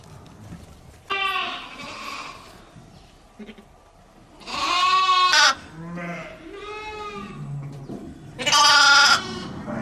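A paralysed lamb bleats while being bottle-fed on a livestock farm, giving three loud, wavering calls close by, with quieter sounds and faint voices in between.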